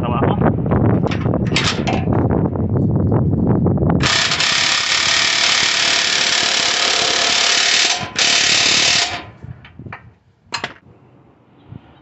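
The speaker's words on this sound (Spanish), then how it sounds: "vamos a apretar este tornillo, vamos a poner la llave 18 arriba y vamos a apretarlo por el lado de acá abajo" An 18 mm wrench tightening a lower control arm bolt on a 2007 Nissan Sentra 2.0 makes a quick run of close ratcheting clicks, followed by a long, steady metallic rasp that cuts off abruptly.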